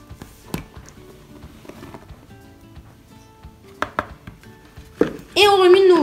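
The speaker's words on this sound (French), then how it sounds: "Et maintenant, on va remuer." A utensil stirs black-dyed donut batter in a bowl, giving sparse soft taps and scrapes against the sides. The sounds come close and quiet, ending in a louder squeaky drag.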